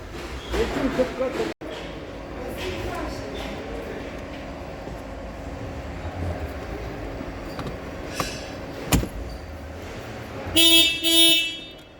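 Steady workshop background hum, then two quick honks of an Opel Astra H car horn near the end, close and loud, after a repaired CIM module fixes a horn fault, with faint talking earlier.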